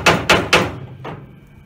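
A chipping hammer striking a cast iron weld: three sharp, bright metallic taps in quick succession, then a fourth softer tap after a pause, each with a short ringing decay, close and loud with no talking.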